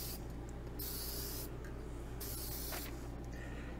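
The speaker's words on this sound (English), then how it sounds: "Before you spray, you want to make sure you have the spray coming out okay" An aerosol can sprays finish onto RV wood trim in short hissing bursts, three or four of them with pauses between, close and steady over a low background hum.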